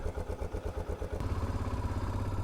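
A 1988 Yamaha Ténéré motorcycle idles evenly at close range, a low rhythmic single-cylinder thump that pulses steadily and firms up slightly halfway through, with no talking.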